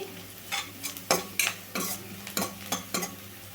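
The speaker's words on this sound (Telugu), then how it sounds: "చూడండి, ఇట్లా కలుపుతానైతే వేయించుకోవాలండి" Green peas fry in a pan for a chaat masala, with a spoon stirring in repeated scraping strokes over a continuous sizzle. The sound is close, with no voices.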